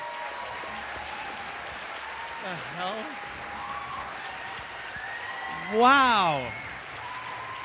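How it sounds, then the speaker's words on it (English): Steady audience applause fills the room at a moderate level throughout, with a few voices calling out in surprise over it and a brief rise in loudness near the end. "Give her a round of applause"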